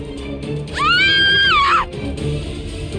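A character in the video game Re:Zero − Starting Life in Another World screams once, loud and close, a high rising-then-sustained shriek lasting about a second over steady game music.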